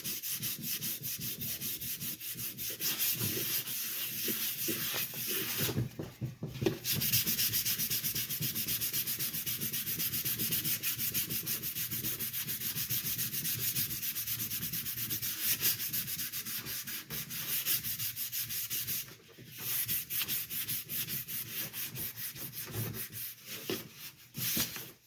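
Hand sanding smoothing primer on a Boba Fett helmet, a dense scratchy rubbing that runs steadily up close with two brief pauses.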